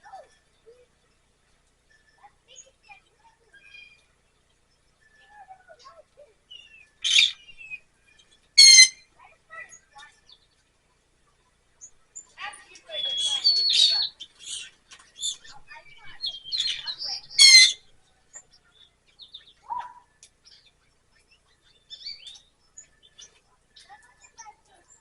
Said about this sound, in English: Two other different birds.